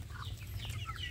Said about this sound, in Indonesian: Jadi anak ayam kampungnya ini jadi sangat sehat.